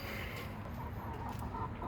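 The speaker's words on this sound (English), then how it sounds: "You guys know our chickens." Backyard chickens clucking in a steady, moderately close murmur of low calls, with no talking over them.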